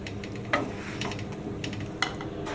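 Lachha paratha frying in a little oil in a pan gives a soft, steady sizzle up close, broken by two sharp clinks of a utensil against the pan.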